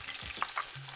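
Fresh seasoning hits a hot pan with a brief, close sizzle and a couple of sharp crackles, no voices present.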